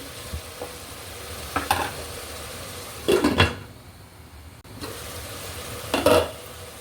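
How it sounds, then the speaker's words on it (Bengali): Spices fry gently over low heat in a pan while being stirred, a soft, continuous sizzle broken by three or four brief scraping bursts as the spoon moves through the pan. "এভাবে কম জালে নেড়ে চেড়ে দিয়ে হওয়াবো"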